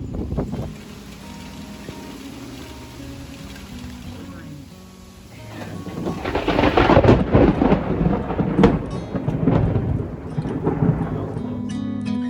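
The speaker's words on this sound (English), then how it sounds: "We just had a out of the blue storm." A sudden summer thunderstorm over a home garden: rain patters steadily throughout, and a loud, rolling burst of thunder swells and rumbles for several seconds before fading back into the rain, heard close and without talk.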